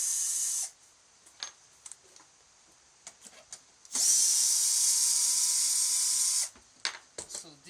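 A power drill unscrews the bottom of the screen mount on a Xcade bartop arcade cabinet, whirring in two bursts, a short one at the start and a longer steady run mid-clip, with small clicks and handling knocks between them.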